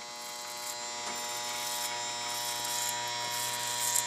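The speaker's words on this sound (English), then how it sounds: "go really slow and let the clipper work" Electric hair clippers cut hair at close range, a steady high-pitched mechanical buzz with faint snips of passing strands, continuous throughout.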